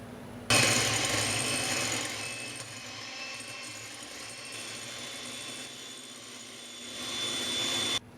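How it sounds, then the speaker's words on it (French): An electric hand mixer whips egg whites in a large bowl for a no-bake chocolate cake. Its loud, steady high whirring starts abruptly, runs for about seven seconds with slight changes in pitch, then stops. "on va monter nos blancs en neige avec le batteur électrique"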